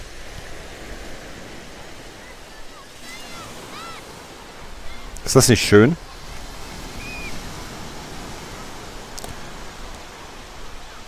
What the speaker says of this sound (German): ich weiß nicht, ob man das Rauschen der Wellen hören kann